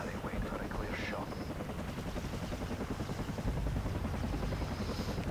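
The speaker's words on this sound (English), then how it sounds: "Get him away, stupid chopper." Helicopter in Call of Duty 4: Modern Warfare, a steady chopping rotor thrum that holds throughout and swells louder near the end, with other game sounds mixed in.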